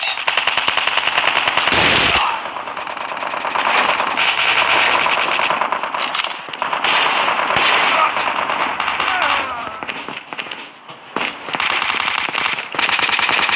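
Rapid automatic gunfire fills a Call of Duty Mobile match, loud sustained bursts with sharp individual shots and brief pauses, one heavier blast standing out near the start.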